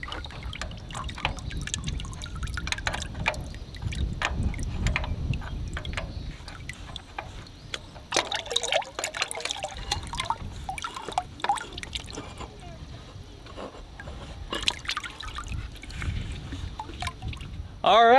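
Oil thinned with gasoline draining quickly from a John Deere Model A tractor during an oil change, a steady trickle with scattered drips running throughout, with a few brief knocks near the end.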